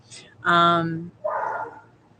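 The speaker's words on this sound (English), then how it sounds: "please like the live while we listen to Max bark in the backyard" A dog barking in a backyard, heard from indoors: one loud, drawn-out bark followed by a softer, rougher yelp, close and fairly prominent over quiet room tone.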